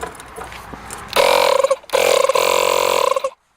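Makita DMP180Z cordless inflator switches on after a quieter stretch and runs with a loud, steady mechanical buzz, briefly dipping before resuming and then cutting off abruptly.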